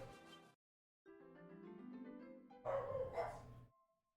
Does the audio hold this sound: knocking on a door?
no